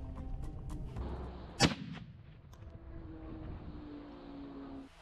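A bomb dropped from a drone over a beach explodes in the distance, a single sharp, muffled blast cutting through the faint drone of an engine and a low background rumble.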